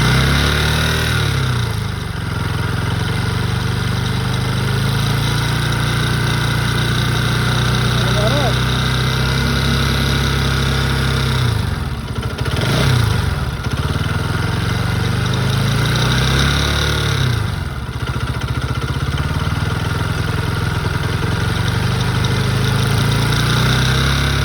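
A vehicle engine idles steadily at close range beside the engine head, a constant low rumbling drone with slight dips, and someone talks over it now and then.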